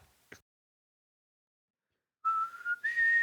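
A person whistles a call sign as two sustained, rising tones after a long silence, preceded by a short click, clear and close.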